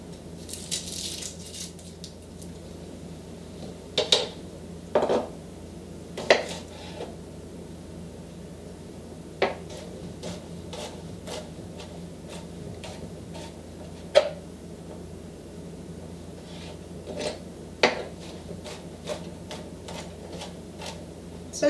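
A knife chops garlic cloves on a board in sparse, irregular taps, some single and some in quick pairs, spread over a quiet background.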